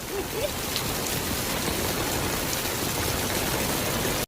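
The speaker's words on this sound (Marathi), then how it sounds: "मरणाचा पाऊस चालू आहे" Heavy rain pours down steadily, a dense, even hiss of drops drumming on surfaces close by with no break, alone without voices.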